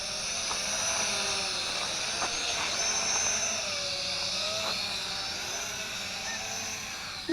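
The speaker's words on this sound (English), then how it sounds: "Not a bad little quadcopter." A W606-7 Thunder Spaceship quadcopter camera drone flies nearby outdoors, a continuous high buzzing whine of small propellers that wavers slightly in pitch as it circles close.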